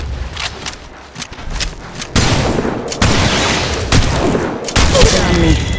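An Auto Mastiff shotgun fires repeatedly in the mobile shooter Apex Legends Mobile, loud close booming blasts in quick bursts, with in-game voice callouts between shots.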